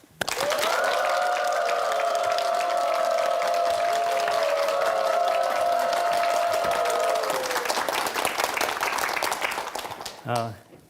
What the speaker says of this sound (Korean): 큰 박수로 초대하겠습니다